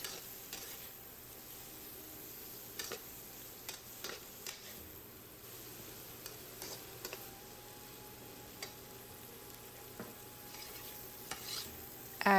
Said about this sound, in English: Stir fry until the cabbage gets soft.